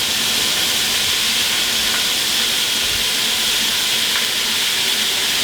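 Ground beef browning in a pot for South Carolina-style Texas chili gives off a steady, dense sizzling hiss that holds evenly throughout, with no talk over it.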